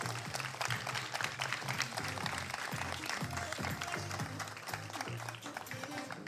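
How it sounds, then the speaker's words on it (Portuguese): Audience applause at a beauty pageant gala final crowning Miss Simpatia 2020, steady dense clapping with crowd noise over music throughout. "Uma salva de palmas!"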